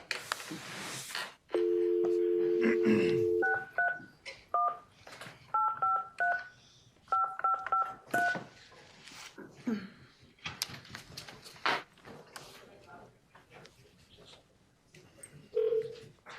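A telephone dial tone gives way to several quick bursts of touch-tone beeps as a number is entered to reach a lab director, with clicks and scattered background noise around it.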